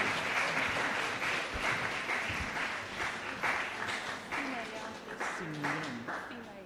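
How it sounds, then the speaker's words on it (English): A crowd at a graduation and awards ceremony applauds with dense, steady clapping while voices call out and cheer over it. "let's put a round of applause for Ms. Sarah Simon of Cinnamium Bakery."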